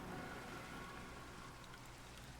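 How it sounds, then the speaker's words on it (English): Rain falls in the video game Minecraft as a steady, even hiss of drops that stays faint and continuous with no voices over it. "Oh, hey, it's raining. Nice."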